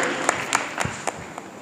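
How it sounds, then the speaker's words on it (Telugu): A small youth fellowship gathering claps briefly for a brother, a short burst of scattered hand claps heard close up. "ప్రతి ఒక్కరు క్లాప్స్ కొడదాం బ్రదర్కి."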